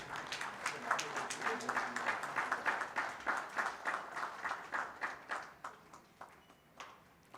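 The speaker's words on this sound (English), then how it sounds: "A big round of applause," A conference audience claps to honour a guest at an automotive manufacturing event. The applause is a fairly distant, rhythmic patter of hand claps that loosens and thins toward the end.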